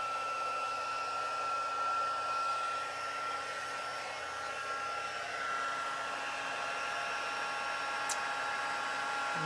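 A heat embossing tool blowing hot air onto embossing powder on a stamped paper craft piece: a continuous, even fan-like roar with a steady whine, close and constant throughout, with no talking.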